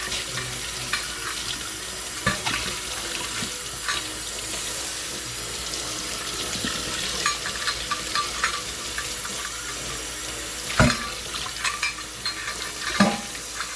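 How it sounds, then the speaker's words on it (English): Tap water runs steadily into a kitchen sink while a measuring cup is rinsed under it, with occasional sharp knocks and clinks of the cup against the basin, close and continuous. "Let me rinse this out very thoroughly."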